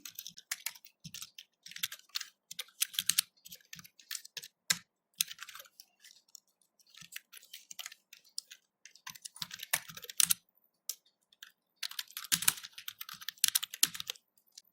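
Code being typed on a computer keyboard, a close, crisp stream of rapid key clicks in bursts separated by short pauses, with no talking.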